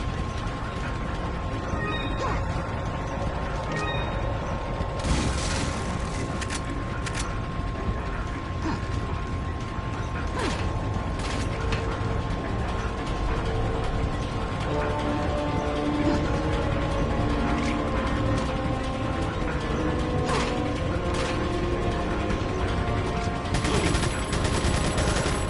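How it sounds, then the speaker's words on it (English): Elevator machinery in the video game Resident Evil 4 (2005, Separate Ways), a continuous clanking, ratcheting mechanical grind with gear clicks and metallic knocks running steadily throughout. "So we need to again up the elevator, and then we can reach this level."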